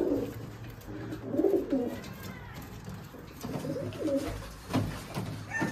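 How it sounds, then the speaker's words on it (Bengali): Giribaj pigeons cooing in an enclosed breeding room, several soft throaty coos rising and falling in repeated phrases, close by, with faint background noise and no talk. "তো এই হলো ভাইয়ের কবুতর, যেখানে ব্রিডিং হচ্ছে"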